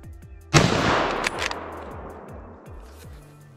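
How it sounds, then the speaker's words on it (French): A single sharp rifle shot fired at a roe buck during a hunt, loud and close with a long rolling echo across open ground, while a low engine-like hum runs steadily underneath. "j'attends que le brocard se présente parfaitement pour tirer une balle"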